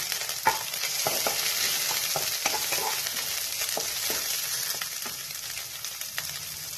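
Capsicum, added a little wet, sizzles and fries in a pan alongside cashews, a steady hiss with occasional stirring clicks and scrapes, close and continuous with no talking.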